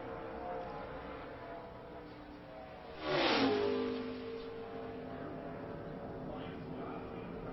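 A stock race car engine on a qualifying lap, heard as a distant drone that swells into a brief loud pass-by roar midway, then falls back to a steady murmur, with speech over it.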